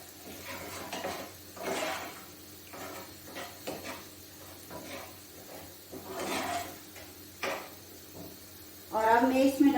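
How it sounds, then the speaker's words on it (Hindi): Potato kachori filling being stirred and roasted in a pan on medium flame, soft intermittent scraping and clinks of a spoon against the pan in short strokes, with someone talking throughout. "मीडियम आंच पे इसको अच्छी तरह भूनना है"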